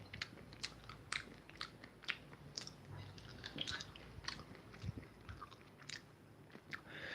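Close crunchy bites and chewing of a crunchy, slightly burnt brownie, sharp cracking crunches repeating at an irregular rhythm, quiet and intimate with no talking.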